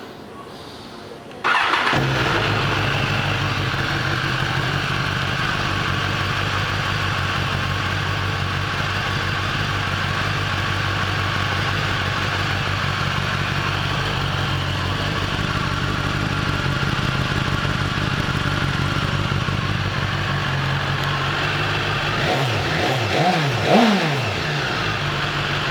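A 2018 BMW S1000RR motorcycle engine starts after a moment of quiet, then runs at a steady, close idle for over twenty seconds, with a slight blip near the end.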